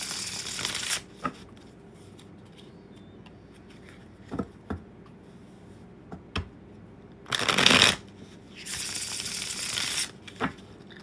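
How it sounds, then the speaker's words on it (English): Tarot cards being shuffled in a quiet room, with short riffles near the start and two longer, louder bursts of shuffling toward the end, separated by soft taps and handling. "that was not a good start. Not a good shuffle."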